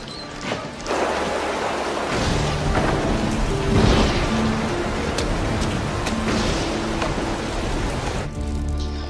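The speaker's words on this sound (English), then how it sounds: "It's raining outside." A thunderstorm with steady, heavy rain pouring outside, loud and continuous, while deep thunder rumbles swell and fade underneath, with no talking.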